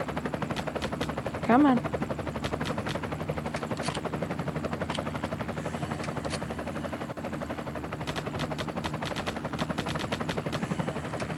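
Rapid automatic gunfire in the zombie shooter game Zombie Hunter, steady rattling bursts running almost continuously over a droning background, with a brief spoken interjection early on.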